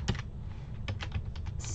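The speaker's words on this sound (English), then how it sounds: "I'm going to type in the web address" Quick bursts of keystrokes on a computer keyboard as a web address is entered, several clustered clicks spread across a short, quiet stretch with no voices.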